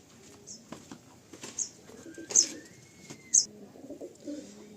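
Pigeons in a loft coo softly in short, repeated calls, with a few sharp chirps and faint rustles scattered through a quiet room.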